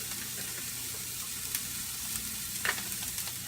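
Garlic frying in a pan gives a steady, moderately quiet sizzle that runs through the whole stretch, with a few brief stirring scrapes near the end.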